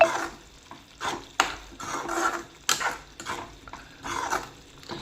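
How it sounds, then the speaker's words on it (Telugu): Thickened egg gravy stirred with a spoonful of garam masala, giving repeated scraping and clinking strokes against the pot over a low simmering sizzle, close and steady with no talking. "గరం మసాలా కూడా బాగా కలుపుతున్నాము"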